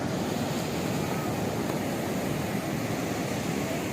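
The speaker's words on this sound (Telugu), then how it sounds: "వాటర్ అది చాలా బాగా అలలవి బాగున్నాయి." Sea waves breaking on a beach in Goa at night, a steady continuous roar of surf with constant broadband wash and no clear individual crashes, with no voices.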